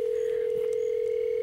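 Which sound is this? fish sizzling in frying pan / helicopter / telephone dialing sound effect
telephone dialing sound effect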